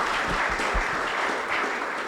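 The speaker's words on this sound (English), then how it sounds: "Let's clap for her as we finish up." A small audience applauds at the close of a fintech industry talk session, the clapping steady and fairly loud throughout, with a few sharper claps standing out near the start.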